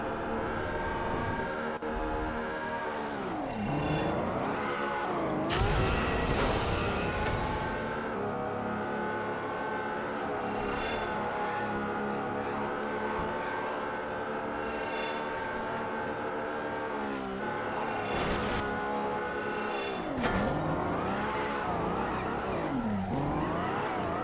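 A race car engine in the Midnight Club video game drones steadily at high revs, with pitch dips and swoops as it shifts and turns, loud and continuous throughout.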